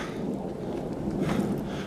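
A distant, low rumble of thunder from an approaching storm rolls on steadily, deep and muffled, with a slight swell near the end.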